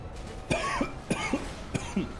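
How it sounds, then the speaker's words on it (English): Several harsh coughs in quick succession, close to the microphone, forming a short coughing fit. "The biggest cough I've had all day."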